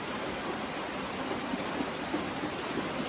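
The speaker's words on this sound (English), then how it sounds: "Oh, is the rain going down a little bit?" Steady rain falls outside, a dense, even hiss that fills the whole stretch with no voices over it.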